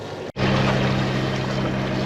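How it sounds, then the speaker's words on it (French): A sailboat motors through the Ionian Sea near Meganisi under engine power, giving a steady, close, droning hum with rushing wind. The sound cuts out for a split second near the start, then continues evenly. "Bah, tu l'entends, nous sommes au moteur."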